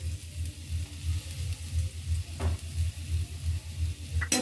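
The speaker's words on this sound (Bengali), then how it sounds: "গাজরটা যখন হালকা একটু ভেজে যাবে তারপরে পেঁয়াজটা দিয়ে দেবো" Carrots and onions sizzle steadily in a hot pan with a low pulsing stir underneath, broken by a short clink midway and another at the end.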